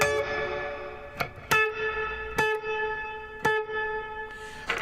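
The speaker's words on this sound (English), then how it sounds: "let me bring that pre-delay up a bunch" Distorted guitar chords ring out through a reverb effect with the pre-delay turned up, sharp attacks at irregular intervals each followed by a long washy tail that lingers between hits.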